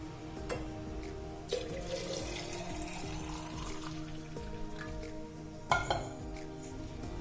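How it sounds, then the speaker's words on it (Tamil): A steady, fairly quiet trickle of strained lime juice pours into carrot juice, with a couple of faint clinks from the container along the way. "இப்போ இதை கேரட் ஜூஸோட ஆட் பண்ணிடலாம்"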